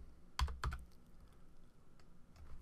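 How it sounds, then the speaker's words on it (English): Typing on a computer keyboard while working in CorelDRAW: a couple of sharp key clicks, then faint scattered taps, quiet and close. "I'll just type that in up here."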